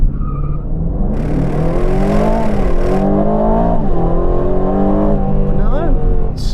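Engine of a 2024 Aston Martin V12 Vantage, a 700bhp V12 supercar, loudly revving and pulling hard from a launch-control race start, with rising gear-by-gear sweeps, a shift dip and a brief tire chirp, all close and continuous.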